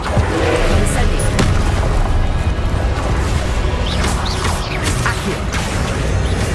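The Incendio fire spell is cast in the Hogwarts Legacy video game, a loud, dense roaring blast of flame with mechanical clanks and whooshes that fills the whole stretch continuously and closely.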